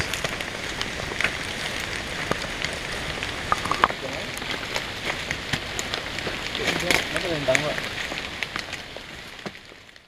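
Rain falling during a hill hike: steady patter of drops hitting nearby surfaces and foliage, with sharp individual splats and a faint voice in the background.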